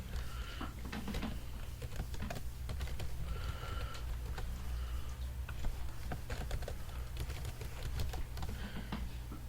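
Password being typed on a computer keyboard during a Windows Server 2008 setup: quiet, irregular clicking of keys in short bursts over a faint steady electronic hum.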